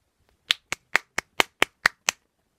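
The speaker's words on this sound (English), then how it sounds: "Round of applause!" Eight sharp hand claps in a brisk, slightly uneven rhythm, close and clear with no voices over them.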